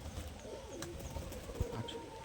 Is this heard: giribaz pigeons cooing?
yes